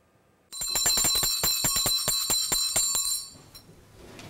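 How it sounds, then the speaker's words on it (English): An old hand bell from a one-room schoolhouse rings after a short silence, struck rapidly about twenty times in a bright, close, metallic clatter that stops abruptly and leaves a faint ringing tail. "she would ring this bell"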